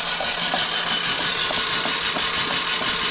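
A barn-find Peugeot 307 engine turned over on its starter motor, giving a steady, rhythmic cranking churn with regular pulses throughout, close and fairly loud, with no voices.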